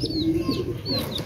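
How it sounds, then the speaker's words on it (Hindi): Colorful baby chicks give soft, high peeping chirps close by, a short burst of overlapping calls over a low background murmur. "तो ये रंग बिरंगे चूजे"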